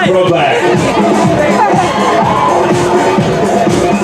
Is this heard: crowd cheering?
yes